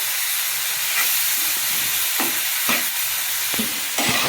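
Sizzling frying hiss of a mash with tomatoes runs steadily throughout, with spatula scraping stirs against the pan every second or so, close up and with no voices.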